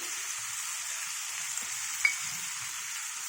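Thinly cut capsicum fries softly in a pan for a chutney, a faint, even sizzle with one small pop and no talking.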